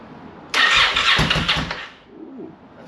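A Honda Superhawk motorcycle with electrical issues cranks and catches, a loud close burst of engine noise that runs rough for about a second and a half before fading back down.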